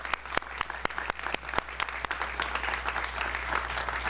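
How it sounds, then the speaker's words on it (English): An audience at a state fair ribbon-cutting ceremony claps for a national anthem singer, a steady burst of many hands with a few sharper nearby claps standing out, no talking over it. "Can we give her another round of applause?"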